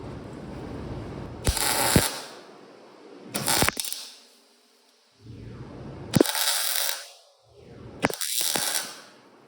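A wrench works a seized stud on a rebuilt 5.3 LS engine, giving four separate bursts of harsh ratcheting clicks with quiet gaps between them. The bursts are close and loud, with no talk.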